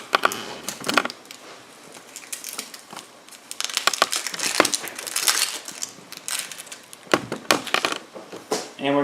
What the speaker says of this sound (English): I'm going to cut the end off of an onion and one side off so it can balance.